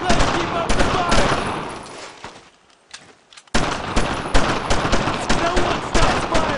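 Sustained automatic gunfire from World War II era weapons in the video game Brothers in Arms: Road to Hill 30, loud bursts that fill the scene, break off briefly in the middle, then resume heavily.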